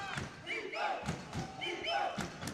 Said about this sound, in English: As you can hear behind us, the Tahitians are going crazy.